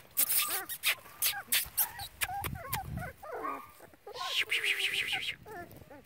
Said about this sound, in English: Got the three little puppies under the chair.